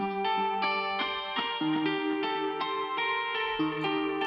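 A dry sampled guitar patch from an Omnisphere bank plays a slow, steady melodic phrase of sustained plucked notes, clean and close with no effects.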